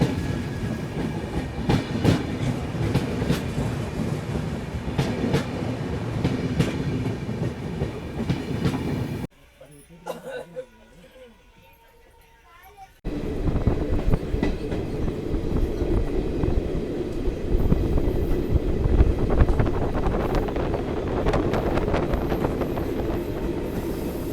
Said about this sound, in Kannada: ನಮ್ಮ ಟ್ರೈನ್ ಈಗ ಎಂಟ್ರಿ ಆಗತ್ತೈತಿ ರೀ ಮದ್ದೂರು ರೈಲ್ವೆ ಸ್ಟೇಷನಿಗೆ.